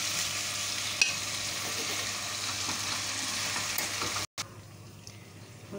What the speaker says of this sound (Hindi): हल्का सा फ्राई हो गया है चिकन